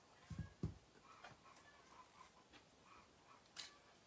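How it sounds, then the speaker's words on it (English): Faint chickens cluck a few times at a distance, with scattered soft bird calls and light background noise. "chickens are gonna go crazy while I'm doing a video"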